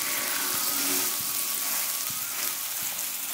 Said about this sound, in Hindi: अब मैं इसमें मैं बैटर डालूंगी